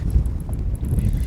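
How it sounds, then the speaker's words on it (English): Gusty wind buffets the microphone outdoors on a summer walleye fishing outing, making a close, low, rumbling roar that rises and falls with no talking over it. "Little windy today."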